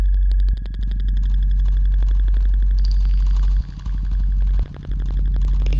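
A modular synth Morphogene loops home-recorded sounds of hitting different surfaces for an industrial ambient track, giving repeated clattering, rattling taps over a heavy low drone, dense and close throughout.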